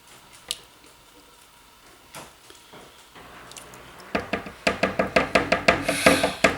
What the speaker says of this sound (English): Go ahead and add in the lye solution.